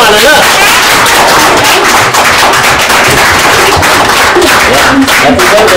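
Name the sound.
applause at a birthday celebration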